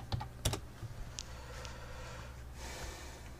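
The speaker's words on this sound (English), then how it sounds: "let's do a Google search here. Just type in Steven Anderson" Keys clatter on a computer keyboard as a Google search is typed: a few sharp close taps up front, then lighter scattered clicks, all quiet.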